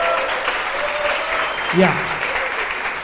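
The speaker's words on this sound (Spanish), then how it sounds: "Denle un aplauso a la Inés y al equipo de logística" A church congregation applauds Inés and the logistics team, a steady wash of clapping with a brief spoken word and a short voiced sound rising partway through.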